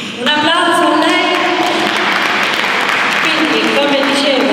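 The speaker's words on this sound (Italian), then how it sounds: "Un applauso a lei." Audience applause at an Italian solidarity award ceremony in Rome, a dense, loud, continuous clapping that swells right after a spoken introduction, with music tones at the start and end.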